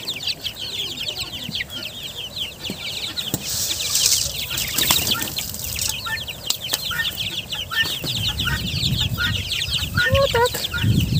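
Young chickens out in a farmyard cluck and peck at large feed pellets, with continuous close clucking, occasional wing flaps and a voice talking now and then.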